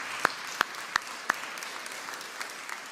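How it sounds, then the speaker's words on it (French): A handful of sharp, separate claps from an Adventist congregation at a Sabbath service, four clear ones close together and then fading to faint scattered claps. "Oui, on peut les applaudir"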